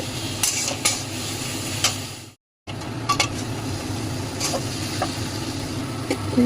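A spoon stirs spice masala with fried sugar in a pan over a high gas flame for a chicken kosha dish, giving a steady sizzle with repeated scraping strokes, broken by a brief moment of silence.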